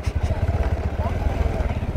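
A motorbike is ridden along a village path, its engine a low, rapid, pulsing putter that holds steady throughout, with people talking over it.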